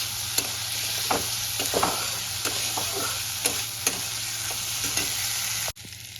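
Fried potatoes tossed into a spice paste in oil and stirred, a steady sizzle punctuated by regular spatula scrapes and taps against the pan, close by, the sound cutting off abruptly near the end; no talking.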